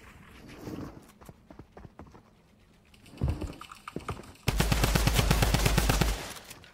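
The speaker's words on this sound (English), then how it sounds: "he has the mythic drum gun" A mythic drum gun in Fortnite fires a sustained rapid burst near the end, loud and rattling, after scattered footsteps and a few isolated shots.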